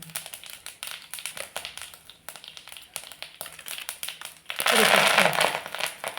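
Mustard and cumin seeds crackling in hot oil for a tempering, with rapid sharp pops and snaps that build into a dense burst of sputtering near the end, sounding close.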